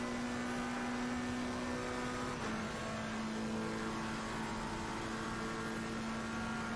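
McLaren race car engine in Assetto Corsa Competizione at Spa, a steady high engine drone holding pitch, briefly dipping midway as it shifts, then continuing loud and constant with no talk.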